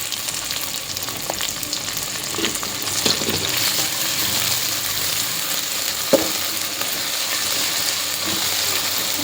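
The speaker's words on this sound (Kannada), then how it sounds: "ಒಂದು ಸ್ವಲ್ಪ ಹೊತ್ತು ಚಲೋ ಫ್ರೈ ಮಾಡ್ಕೋಬೇಕು." Potatoes, tomatoes and green chillies fry together in a pan for a North Karnataka style pulao, a loud, continuous sizzle broken by a few sharp stirring clinks, with no voices.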